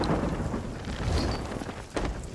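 Thunderstorm in the pirate game Sea of Thieves: a low rumbling roar of thunder with rain and wind noise around a ship at sea, rising briefly toward the end, no voices.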